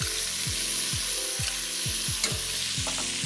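Chopped onion and garlic sizzling loudly in a hot pan for a chicken and chickpea tagine, a steady bright fry broken by a few clinks and stirs, with no talking.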